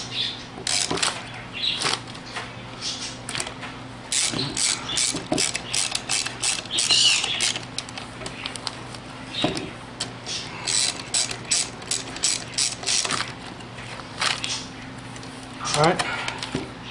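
A ratchet with a 10 mm socket tightens a bolt on the rear air suspension pump of a 2000 BMW X5 4.4i, its pawl clicking in repeated bursts and pauses, close and distinct.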